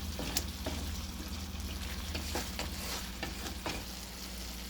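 Masala for mutter paneer fries and is stirred in a pan, a continuous close sizzle broken by repeated sharp spoon scrapes and clicks.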